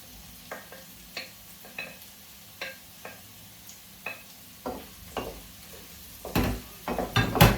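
Potatoes dropped into a hot frying pan for a cashew and liver dish, giving a steady sizzle with repeated sharp stirring clicks and scrapes, building to louder bursts of frying and clattering near the end.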